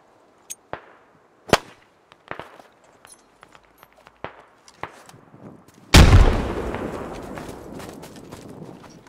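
A frag grenade blast goes off loud and close in a video game after a scatter of sharp gunshot cracks, its rumbling boom decaying slowly over the last few seconds.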